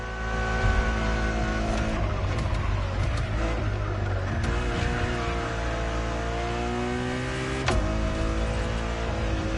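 A Ferrari Enzo supercar drives in The Crew Motorfest, its engine roaring loud and close in a sustained drone that rises and falls with gear changes, with a sharp shift near the end.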